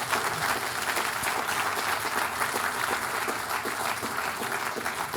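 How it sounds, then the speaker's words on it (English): Lecture hall audience at a physics talk gives a dense, even round of applause that holds at a steady moderate level for several seconds. "I said, applause for the authors."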